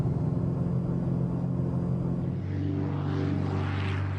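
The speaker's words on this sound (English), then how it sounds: "The short takeoff and slow speed of these small planes is ideal for Skywatch work." A small propeller plane taking off on a Civil Air Patrol skywatch flight, a steady droning engine rumble heard close, with the pitch shifting partway as it accelerates.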